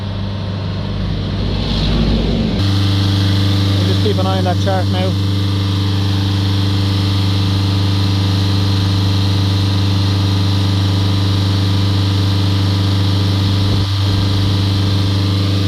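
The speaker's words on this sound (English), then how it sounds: "I'm going to use this to hold some revs on the car for me." A Mercedes A180 diesel engine, under repair for a diesel particulate filter fault, is held at raised revs with a loud, steady drone that settles after a brief change in pitch, while someone speaks over it.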